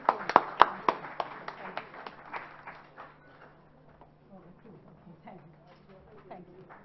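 A small audience at a talk and Q&A session claps sharply at first, then the applause thins into scattered, fading claps as people speak over it.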